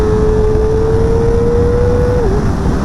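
A Kawasaki ZX-4RR with a 400cc four-cylinder engine holds a loud, sustained high-rev whine over rushing wind noise, then dips slightly near the end.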